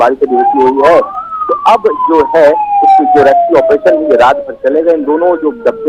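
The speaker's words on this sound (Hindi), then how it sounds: "आपको सायरन की आवाज भी सुन सकते हैं यहाँ पे" A wailing emergency siren rises and falls continuously at a train derailment site in Ratlam, where two coaches of the Indore-Udaipur train left the tracks, sounding clearly under a reporter's steady talk throughout.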